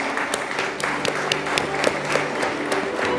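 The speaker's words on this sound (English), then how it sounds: "I request the audience to give them a huge round of applause" Audience clapping for the panelists at a savings and finance summit, a moderate, steady patter of many hands with a few sharper individual claps standing out.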